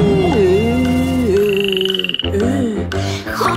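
Frogs croak in a Polish children's song about going to the river, with the croaks set against music as a dense, bright layer.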